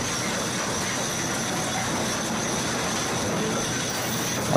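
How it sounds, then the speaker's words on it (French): A railway work train of 40-cubic-metre hopper wagons rolls along the track during ballast cleaning, a steady broad rumble with faint high squeal, constant and fairly loud throughout. "le train vague, composé de wagons trémies d'une capacité de 40 mètres cubes, reprend sa place dans la suite de dégarnissage"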